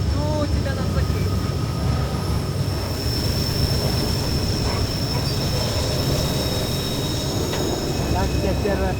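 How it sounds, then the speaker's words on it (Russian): Train rolling along rails in Mexico, a steady loud rumble of wheels and carriage running without pause, with faint squeals and rattles over it and voices talking now and then. "Как тебе первое путешествие на поезде?"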